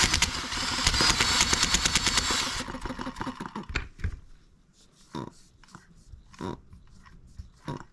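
A Tecumseh-style H73 small engine cranks over and tries to catch, with uneven sputtering bursts and brief loud pops that fade into scattered weak coughs, never settling into a steady run.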